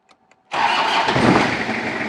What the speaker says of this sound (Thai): เดี๋ยวสตาร์ทเครื่องดูนะครับว่า แจ๋วหรือเปล่านะครับว่ามัน มันสั่นมากไหมนะครับ